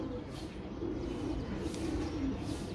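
Pigeons coo softly in a low, repeated throaty murmur, fairly quiet and continuous over a hushed background.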